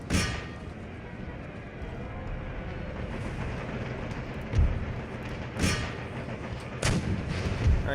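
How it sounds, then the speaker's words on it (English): Cannon artillery fire in an Empire: Total War battle, heard as several heavy booms at irregular intervals, some near and some more distant, over a steady rumble of battlefield noise. "Their cannon's finally getting dialed in, it looks like."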